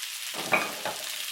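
Chopped green onion dropped into a hot pan with browning spare ribs, giving a steady close sizzle with two brief stirring surges.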